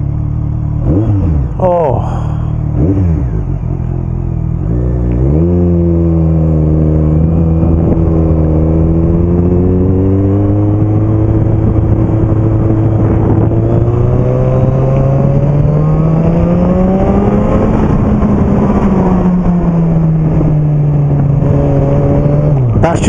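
A BMW K1200S motorcycle engine revs hard while riding under a bridge, its loud, rising and falling roar echoing close by and continuing steadily, with a brief exclamation from the rider over it.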